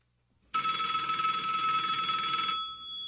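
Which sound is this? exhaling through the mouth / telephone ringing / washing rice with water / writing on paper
telephone ringing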